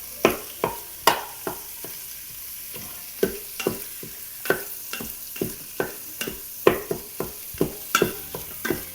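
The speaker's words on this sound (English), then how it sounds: "So you just want to do a constant chop and stir" Italian sausage being constantly chopped and stirred in an Instant Pot for creamy sausage soup, a rapid series of sharp spatula scrapes and knocks over a steady sizzle, close and loud with no speech.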